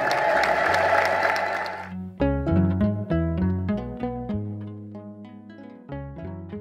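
At a large Orthodox church spiritual gathering in Zara Yaqob square, Debre Birhan, a crowd bursts into clapping and ululation for about two seconds. It then gives way to tonal keyboard music.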